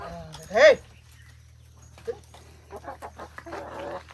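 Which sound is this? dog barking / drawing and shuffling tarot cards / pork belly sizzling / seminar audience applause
dog barking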